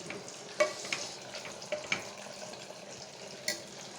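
Chicken coated in Everest chicken masala fries in a pan, a steady close sizzle broken by a few sharp stirring clicks and scrapes, with no voices.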